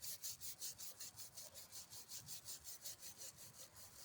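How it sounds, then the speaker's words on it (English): A wire brush scrubs carbon off the piston of a Briggs engine in fast, steady back-and-forth strokes, a close, even rhythmic scratching with no speech. "Just clean some of the rust off this piston."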